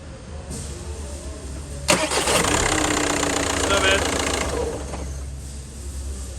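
A car engine cranks and fires up with a sudden loud burst, then runs at a steady rough idle for about three seconds before dropping back to a lower hum; faint talk in the background.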